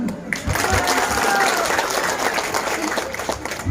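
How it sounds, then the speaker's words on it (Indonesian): A village crowd at an Indonesian legislator's constituency meeting in Mohungo breaks into applause, a close, steady clatter of many hands lasting several seconds, with some voices audible underneath. "Tepuk tangan."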